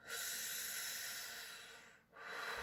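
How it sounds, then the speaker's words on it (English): A long, steady breath drawn through pursed lips as if through a straw during a singing warm-up, a close airy hiss that dips briefly before a second breath starts. "Like you're breathing through a straw."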